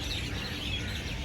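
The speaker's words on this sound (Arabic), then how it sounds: "صوت العصافير والريحة ديال التراب." Birds chirp and tweet in a forest on an island, small calls scattered over a soft, steady background hiss, moderately faint with no talking.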